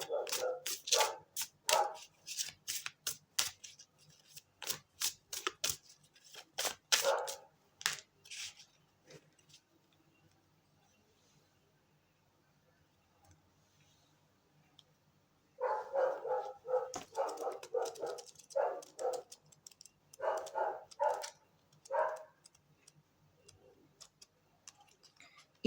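A dog barks repeatedly in quick bursts, moderately close but not loud, with a long quiet gap before a second run of barking.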